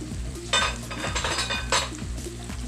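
Chicken feet adobo in oyster sauce being stirred in a pan, with repeated scraping and clinking of a utensil against metal over a steady sizzle, close and moderately loud.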